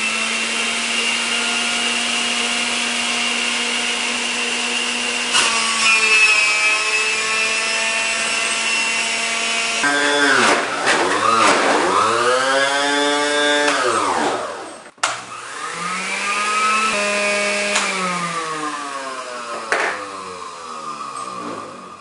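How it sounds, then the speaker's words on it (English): A juicer forcing corn husks through its mechanism, heard as a loud continuous motor whine and grinding that sags, strains and rises again in pitch as the load changes, running for about twenty seconds without any talk. "Probably trying to put corn husk through a juicer is probably not a good idea."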